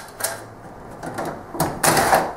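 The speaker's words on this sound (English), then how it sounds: "We simply remove the panel at the front with a couple of clips, a couple of screws at the top." Plastic clicks and scraping as the front panel of a Panasonic JS950 point-of-sale terminal is unclipped and its screws undone, a few close, sharp snaps and rattles spread over a couple of seconds.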